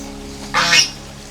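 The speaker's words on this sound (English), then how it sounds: "Duck is getting mad." A large, angry tethered duck lets out a loud, harsh burst of quacking close by, a single raucous call lasting about a quarter second amid quiet outdoor background noise in an Aeta village in the Philippines.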